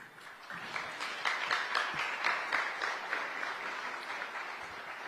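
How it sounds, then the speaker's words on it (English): Warm, steady applause from a large audience at a peace prize ceremony as the prize winner comes up to give an acceptance speech, swelling slightly and holding throughout, with no voices over it. "please join us in welcoming Ms. Winjira Mathai with a warm round of applause as she delivers her acceptance speech"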